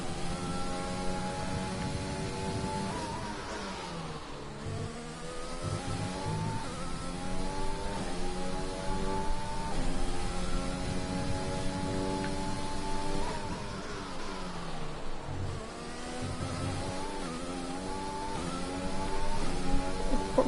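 An F1 car in F1 2020 runs continuously, its high engine note rising through revs and dropping sharply at two points for gear changes or braking before climbing again, with no talk.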